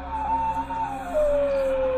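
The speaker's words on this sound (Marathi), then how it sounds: "मध्येच कुठेतरी कुत्रे रडत होते" Dogs howl somewhere in the night, one long wavering howl that slides steadily lower in pitch over about two seconds, clear and fairly near, with no voices.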